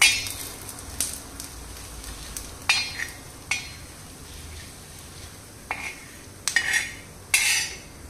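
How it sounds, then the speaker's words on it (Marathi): Coriander seeds dry-roasting in a pan over low gas, heard as intermittent scrapes, clinks and rattling stirs of a spoon against the pan over a quiet background. "धने आपल्याला व्यवस्थित असे भाजून घ्यायचे आहेत"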